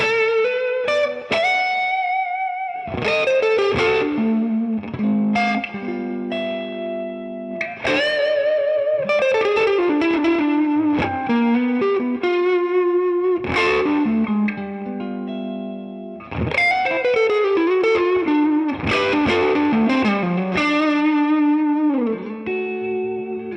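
A warm, rounded tone from the neck pickup of a Gibson 1955 Les Paul plays a melodic passage of sustained notes and chords, loud and alone with a touch of effects.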